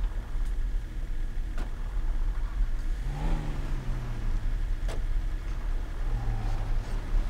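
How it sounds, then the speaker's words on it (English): Truck engine in GTA 5 roleplay, a compound turbo diesel Chevy Suburban, pulling away with a low rumble that rises into a revving climb, then a second rev, over steady background engine noise. "Let me go ahead and get the truck out of here."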